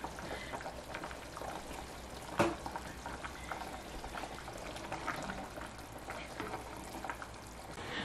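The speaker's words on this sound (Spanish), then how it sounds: "vamos a agregar aquí abundante agua." Water pours into a cooking pot for quinoa, a faint steady splashing and filling sound with one brief louder knock near the start.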